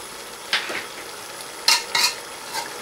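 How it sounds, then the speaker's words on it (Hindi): Tawa keema with coriander and garam masala stirred on a hot griddle, a few sharp metal spatula scrapes and clinks over a low steady sizzle, close and alone. "इसे भी अब मिक्स करना अच्छी तरह।"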